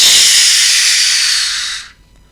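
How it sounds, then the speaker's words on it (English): A steam engine lets off a loud, continuous hiss of steam that holds steady for nearly two seconds, then cuts off abruptly into near silence. "Then he let off some steam with a great"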